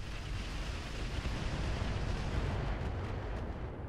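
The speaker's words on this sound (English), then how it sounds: "Here comes some missiles." Incoming missiles explode in the mech combat game Roguetech as a dense, continuous rumbling barrage of blasts, fairly quiet and distant-sounding, with no voices.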